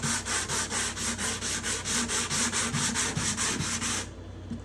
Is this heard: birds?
no